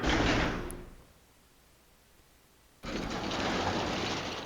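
Door opening in the video game Resident Evil Code Veronica X, a loud mechanical grinding that fades into near silence, then resumes abruptly as a second burst of heavy sliding noise.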